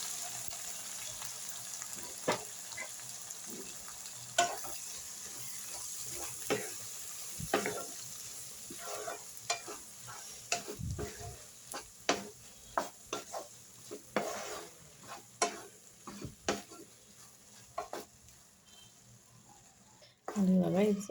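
Onion, tomato, boiled chana dal and cluster beans fry in a pan under a steady soft sizzle, punctuated by frequent sharp spoon knocks and scrapes against the metal, ending in a brief louder splashing burst.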